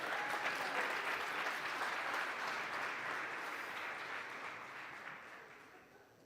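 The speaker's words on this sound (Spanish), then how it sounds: "Démosle un aplauso al Señor por la vida de..." A church congregation applauds in a steady, dense wash of clapping that fills the room, loud at first and slowly fading toward the end.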